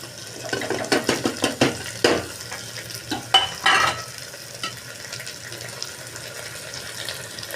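Carrot, potato, pea and bean vegetables with tomato being stirred and sautéed in a pan, with a run of scraping spoon strokes and clatters over a steady low sizzle.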